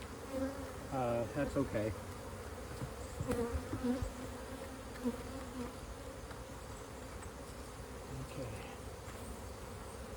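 Honey bees buzz around an opened hive box during an inspection, a constant close drone with individual bees zipping past, while a person speaks briefly.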